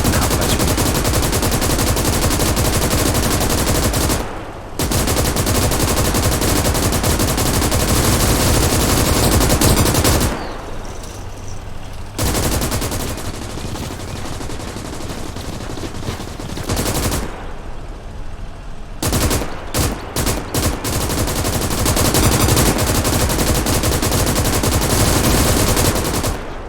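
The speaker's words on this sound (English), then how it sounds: "Double click on the machine gun in the inventory to mount it. Now, shoot all the targets" Mounted machine gun firing at targets in Call to Arms - Gates of Hell, loud sustained automatic bursts with a few short pauses and a run of quick stuttering bursts near the end.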